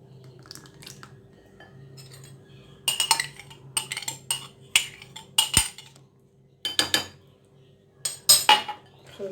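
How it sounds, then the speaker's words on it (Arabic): Madeleine batter made from eggs, sugar, butter and oil is mixed in a bowl: a utensil clinks and scrapes against it in irregular bursts, separated by short quiet pauses. "خلطوا هاد المكونات"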